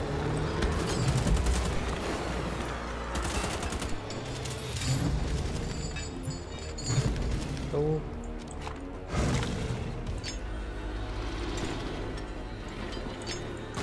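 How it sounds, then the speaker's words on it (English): Rapid bursts of gunfire in the video game Wolfenstein: The Old Blood, with dense overlapping shots and machine-gun rattles running continuously under game music and effects. "You really don't seem to like getting shot."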